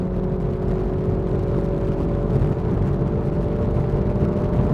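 Mini Cooper S engine pulling hard at high revs from inside the cabin, a loud steady droning roar with whirring drivetrain tone, continuous and unbroken.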